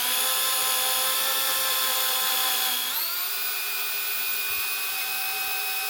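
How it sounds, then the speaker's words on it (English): A power drill boring into timber-framing wood whines steadily and loudly without pause, its pitch shifting slightly midway as it bores in and pulls itself into the wood. "and then the drill starts pulling itself in"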